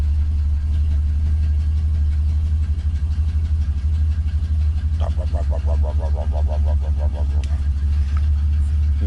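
An old car engine idles with a loud, steady low rumble, and partway through a fuel pump kicks in with a rapid ticking pulse over the running motor.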